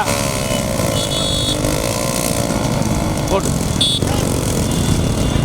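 Motorcycle engine running at a Tamil temple festival bike race, a steady engine drone with pitch sweeps and a brief rev near the end, heard under a loud announcer's voice and crowd noise.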